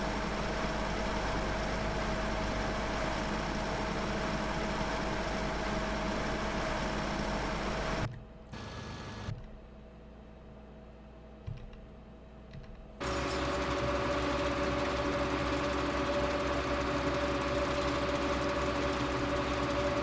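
A tractor engine idles in Farming Simulator 2013 with a steady mechanical hum. It cuts out abruptly for several seconds, leaving a faint, thin tone, then returns at the same level.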